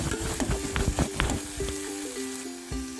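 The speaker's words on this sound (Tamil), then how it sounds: "இது கூட இந்த இஞ்சி பூண்டு பேஸ்ட்டை ஆட் பண்ணி ஒரு 30 செகண்ட் நல்லா வதக்குங்க." Ginger-garlic paste sautéed with softened onion in a pan, a moderate crackling sizzle with quick spatula scrapes and taps in the first half, settling into a quieter hiss.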